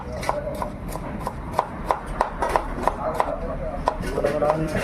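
Knife chopping ingredients for a prawn roast on a board in a family restaurant kitchen, a steady run of sharp, evenly spaced thuds close by, with faint background voices and kitchen noise.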